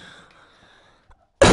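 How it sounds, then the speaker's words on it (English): A single loud, harsh cough bursts out abruptly after a near-silent stretch and is cut off at the end; the speaker has a lingering cough that will not clear. "Just can't get this cough to go away."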